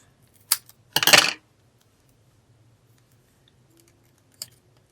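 A small paper ticket is cut in half: one faint snip followed by a louder, brief crisp cut, then a light tap a few seconds later in an otherwise quiet room.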